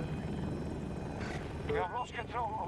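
An Osprey tiltrotor in a video game gives off a steady rotor drone that stays in the background as players' voices talk over it.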